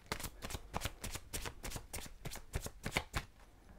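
Tarot cards being shuffled, a close, steady run of crisp riffling flicks and soft slaps with no voice over them.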